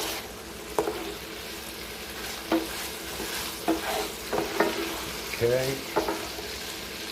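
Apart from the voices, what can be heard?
beef stir-frying and sizzling in a very hot pan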